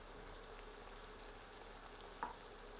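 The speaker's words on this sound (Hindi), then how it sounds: "इसे प्याज के साथ मिलाकर 1 मिनट भूनते हैं।" Garlic-ginger paste frying with onion in a pan for an Indian flat lima bean and potato curry: a faint, steady sizzle with one brief stirring clink near the end.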